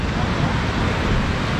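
Steady broadband roar of the Pykara waterfall near Ooty during rain, a continuous rushing wash of water close to the microphone with no clear voices.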